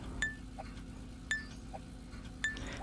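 Glass pieces clinking while being sorted in Recycling Center Simulator, three short bright chimes evenly spaced about a second apart, faint over a low steady hum.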